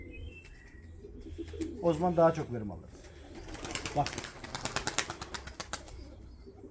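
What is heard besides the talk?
pigeons cooing and flapping wings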